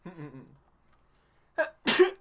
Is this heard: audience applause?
no